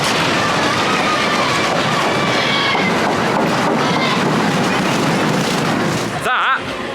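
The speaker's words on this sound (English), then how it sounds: "it even says the Grand National is a high-speed turbulent roller coaster" Grand National roller coaster at Blackpool Pleasure Beach, a high-speed turbulent ride, heard from on board as a loud continuous rattling rumble that briefly dips near the end, with voices mixed in.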